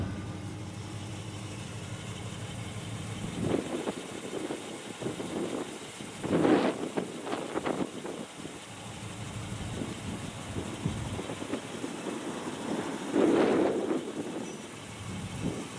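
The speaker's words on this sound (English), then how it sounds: "Fires right up. Good running little 350." A 1968 Chevrolet Camaro with a 350 V8 and a 350 Turbo automatic fires up and settles into a steady, low idle, with a few throttle blips standing out over the rumble.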